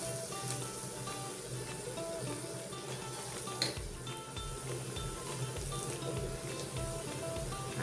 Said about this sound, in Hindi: गोभी को हम फ्राई कर लेते हैं